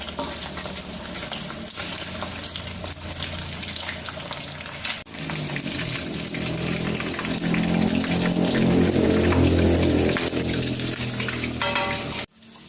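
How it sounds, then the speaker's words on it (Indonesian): Tomato with shallots, garlic, chili and a few lime leaves sizzling in hot oil, a steady loud crackling hiss that swells as the pan gets busier, then cuts off abruptly near the end. "Goreng tomat dulu"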